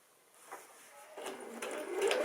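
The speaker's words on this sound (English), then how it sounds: "So now you come back on, do a little back stitch, come back, and then you continue on to the next corner." A sewing machine back stitching quilt binding, a steady mechanical whir that builds louder and busier toward the end, close by and heard alone.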